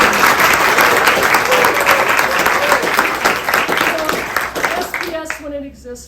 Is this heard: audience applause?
yes